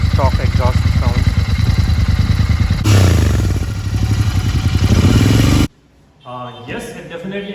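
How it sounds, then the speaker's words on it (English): Stock exhaust on a Royal Enfield Continental GT650 idling close and loud with a steady, even throb for several seconds before it cuts off abruptly, followed by brief unrelated sounds. "This is how stock exhaust sounds."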